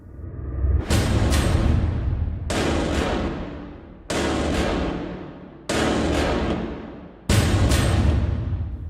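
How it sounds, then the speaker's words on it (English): Five sharp, loud gunshot bangs from James Bond's gun in a movie trailer hit at roughly even intervals, each crack leaving a long booming tail that rings out before the next. "it's revealed to be 2 shots fired from James Bond's gun."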